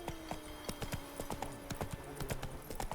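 A horse trots in The Witcher 3: Wild Hunt with a steady, rhythmic clip-clop of hooves, close and moderately loud, the beats falling in quick regular pairs.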